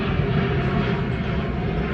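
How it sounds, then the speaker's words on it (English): An airplane passing overhead outdoors gives a steady, loud engine roar throughout, with no talk. "Let this plane go before I speak."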